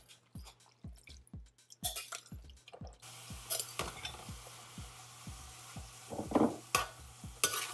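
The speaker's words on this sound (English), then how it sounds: "we're going to saute some onions, garlic, and thinly sliced pork" Onions, garlic and thinly sliced pork saute in hot oil, with a steady close sizzle under repeated rhythmic scrapes and knocks of stirring in the pan.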